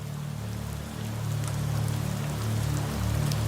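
Rain falling steadily with a dense, even patter, close and continuous, with no voices.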